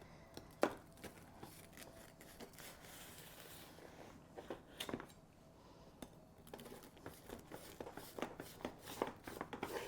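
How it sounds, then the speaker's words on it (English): A knife slices through pan cookies in a baking pan, giving sharp scraping taps and clinks against the metal at irregular intervals, fairly close but quiet, with no talking. "Okay guys, we're going to cut these pan cookies."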